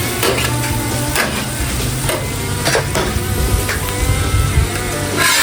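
Smash burgers sizzling on a Blackstone griddle, a loud, steady frying hiss with scraping and clacking from a spatula, close and continuous.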